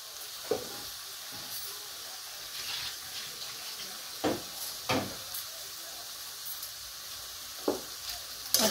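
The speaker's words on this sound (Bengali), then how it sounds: "গুড়টা নেড়ে নেড়ে মিশিয়ে দিচ্ছি।" Sugarcane jaggery being stirred into food in a pan, with a soft continuous sizzle and scattered scraping knocks of the spoon against the pan, fairly quiet and steady.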